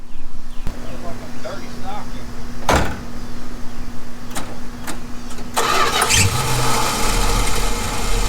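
An old car engine, mentioned alongside a Dodge Dart, cranks and catches about halfway through, jumping to a loud, rough idle up close; a door thud and clicks come before it.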